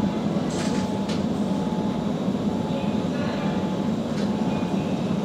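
A Kyoto subway train on the Tozai Line rumbles with a steady low roar and mechanical whine as it pulls away from the station, with faint voices and a few sharp squeaks above.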